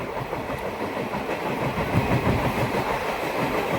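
Tinpahar–Rajmahal passenger train running, a continuous close rumble and rattle of the coach with faint rhythmic clickety-clack, no voices.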